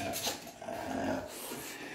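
Bulldogs in an indoor dog room growl and grumble in short bursts, close and moderately loud with some panting, no talk over them.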